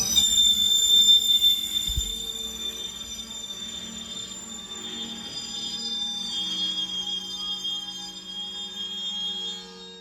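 A CSX freight train slows to a stop at a level crossing in northern Massachusetts, with high, sustained wheel and brake squeal ringing over a low rumble that thins out as the cars come to rest.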